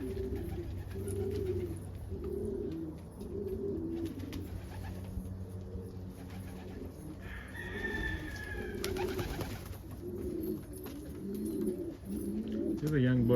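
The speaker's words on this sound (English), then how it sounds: "Here's a barless roller, blue barless, James Turner line" Blue barless roller pigeon, a James Turner line bird with white flights, coos in low repeated throaty phrases close by, with other pigeon sounds around and someone talking over them.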